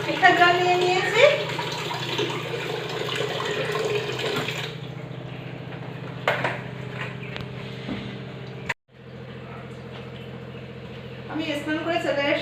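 Water runs steadily from a tap into a bathroom bucket or bath in a home with iron-rich water, a continuous close wash that stops abruptly near the end before resuming, with a voice talking over it at times.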